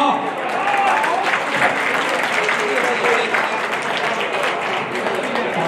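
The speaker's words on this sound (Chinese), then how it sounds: "再一个热烈掌声，好不好" Sustained applause from an audience at an alumni association general meeting, a dense, even wash of many hands clapping that holds steady at a close, loud level throughout.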